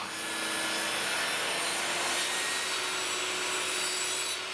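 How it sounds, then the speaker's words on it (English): A drill bores holes through marine plywood for a wooden watch, giving a steady high whine with a rasping, grinding edge that holds at an even level and cuts off at the end. "I am marking and drilling the holes first so that there is less chance of the drill bit wandering off the edge"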